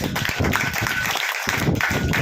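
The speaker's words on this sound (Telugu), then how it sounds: "విందామన్న వాళ్ళు గట్టి చప్పట్లు పట్టండి" An indoor church congregation at a prayer gathering claps together in a dense burst of applause, close and fairly loud, with a brief pause before the clapping resumes.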